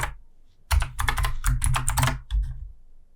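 Rapid typing on a computer keyboard while writing an HTML dir attribute, a close burst of clustered keystrokes with a short pause before a final few presses, no voices.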